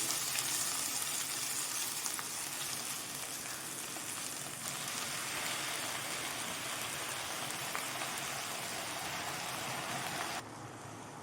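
Onions with washed drumstick (moringa) leaves sautéing in a pan for murungai keerai poriyal, a steady, dense sizzle like rain that runs unbroken and fairly loud, dropping a little near the end, with no talk.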